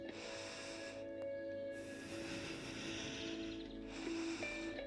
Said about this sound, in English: And let's take 3 breaths here.